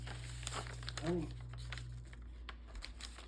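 Gift wrapping paper crinkles and rustles as it is handled and cut, with short crisp snips and crackles close by, alongside a voice talking.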